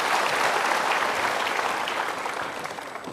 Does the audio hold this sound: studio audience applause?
yes